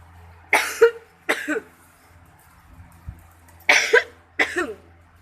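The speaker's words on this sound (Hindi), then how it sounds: "मुझे खांसी लगी हुई है" Four sharp coughs in two pairs from someone with a sore throat, close and fairly loud, with quiet gaps between them and no talking.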